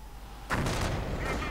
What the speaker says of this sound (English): Mortar rounds flying through the air.